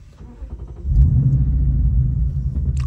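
A 2012 Lexus IS F V8 with PPE catless headers and an Xforce Varex exhaust, valves fully open, rumbles low and steady, swelling louder after a quiet start and holding a deep, droning exhaust note.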